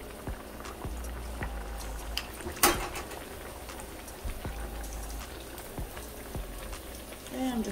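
Trini aloo potato pie frying in hot oil in a pot, a continuous soft crackling and bubbling sizzle with a few louder pops, close and steady with talk faintly over it.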